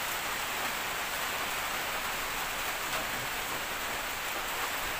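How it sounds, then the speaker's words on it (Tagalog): Rain falls outdoors in dark, stormy weather as a steady, even hiss that neither rises nor fades, with no talking. "Ulan."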